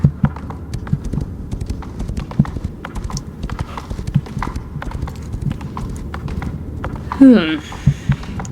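A horse canters in the online game Star Stable, its hoofbeats a steady, rolling three-beat clip-clop that carries on throughout, with a brief whinny rising near the end.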